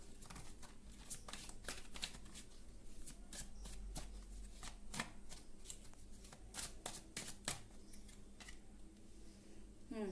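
Tarot cards riffle and slide against one another in a steady run of quick, crisp shuffles, close and fairly quiet, as cards are drawn one by one from the deck.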